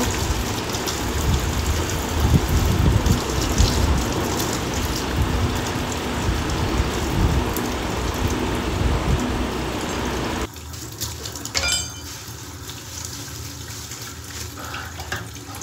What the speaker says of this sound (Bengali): এবার ছুরিগুলো ধুয়ে নেব।